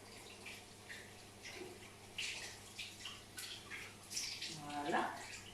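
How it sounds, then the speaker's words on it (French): A two-litre brioche mould is rinsed under lukewarm tap water, a faint, close, uneven splashing and trickling with small bursts as the water hits the metal. "le moule à brioche 2 litres, je le rince"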